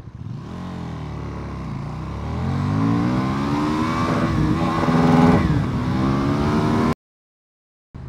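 A 2016 KTM Super Duke R motorcycle engine revs and accelerates continuously, its rising harmonic whine climbing and swelling through several gear pulls, loud and close, before cutting abruptly to silence near the end.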